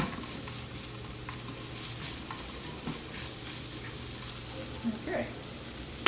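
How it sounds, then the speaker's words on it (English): Oil heats in a pan for frying piroshki, giving a constant crackling sizzle close by, with a few faint bumps and clinks now and then. "Heating up oil there, trying to get to 350"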